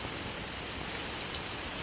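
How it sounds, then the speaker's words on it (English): A June rainstorm keeps falling as a continuous broadband wash of rain on surfaces, a close and steady hiss with no talking. "Still coming down rain."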